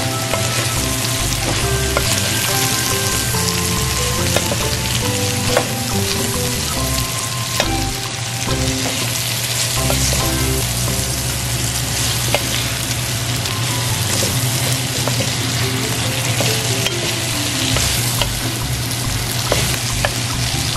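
Vegetables sautéing in a pan with shrimp paste sizzle loudly and steadily throughout, with occasional scrapes and clinks of stirring over the continuous frying hiss.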